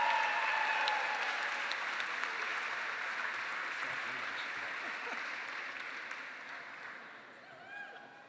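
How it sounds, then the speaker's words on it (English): A gala audience at a melanoma charity event in New York bursts into sustained, dense applause that slowly fades over several seconds, heard from within the room. "Please give him a round of applause."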